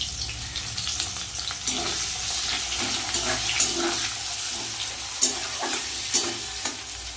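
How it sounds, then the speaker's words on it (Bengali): Chopped onion fries in hot oil with black cumin seeds, giving a continuous close sizzle with scraping stirs and occasional spatula knocks against the pan. "দিয়ে দেবো কুচনো পেঁয়াজ,"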